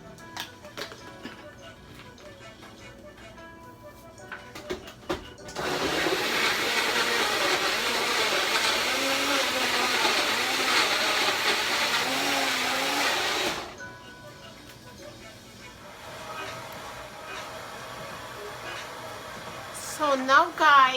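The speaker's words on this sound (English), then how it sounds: "So now I'm gonna put them in the blender and I'm gonna blend them." A blender blends peeled plantains in a loud, steady whirring burst lasting about eight seconds, with quieter kitchen handling before and after.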